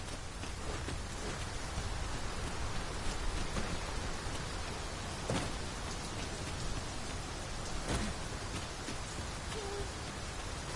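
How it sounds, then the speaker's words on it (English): Steady rain pouring down in the video game Dragon's Dogma 2, a dense hiss of droplets with occasional louder drips, no voices. "I rather thought the air felt heavy and low. 'Tis rain."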